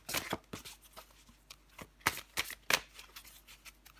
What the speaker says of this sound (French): Allez, pour les Verseaux. Une dernière carte.